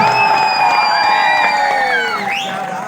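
Crowd at a kabaddi final match, Bhubaneswar versus Bilaspur in 2021, cheering and whooping with shrill whistle-like tones over a continuous loud roar of spectators.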